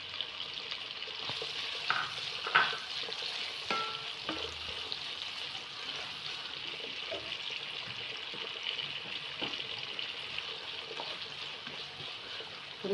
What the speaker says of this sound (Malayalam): അതൊന്ന് വറുത്തെടുക്കാം.